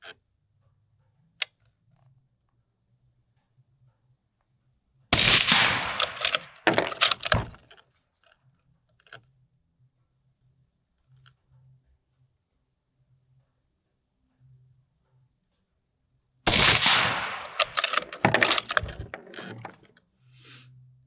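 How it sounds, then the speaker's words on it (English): A rifle fires at a target while its scope is sighted in: loud, sharp cracks with echoing tails come in two separate bursts divided by long quiet stretches, with a small click early on and no speech. "let me shoot 3 more on target"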